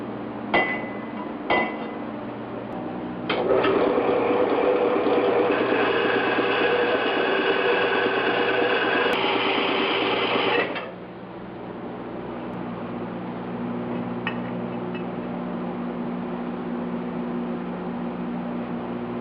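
A cutting tool slits a length of 2.5-inch intercooler tubing for a 1976 Mazda RX-5 Cosmo water-to-air intercooler install, with a loud, sustained, harsh grinding hiss lasting about seven seconds between a few sharp knocks and quieter handling.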